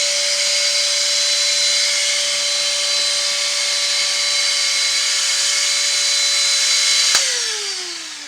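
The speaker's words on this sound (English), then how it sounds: "Turn the vacuum off." A vacuum holds seeds on a seeding tray. It hums steadily and loudly up close with a high whine, then cuts off near the end and its pitch winds down.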